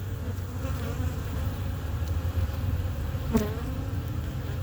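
Honeybees hum in a dense, steady drone on hive frames in a Canadian spring hive, close to the microphone, with a brief sharper buzz as one flies near.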